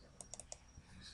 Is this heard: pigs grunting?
no